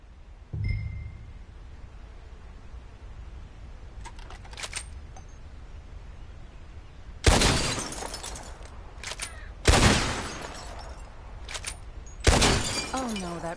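Gunshots in Red Dead Redemption 2 during target shooting, three loud sharp reports spaced a few seconds apart, each trailing a short ringing echo, with faint softer clicks between them.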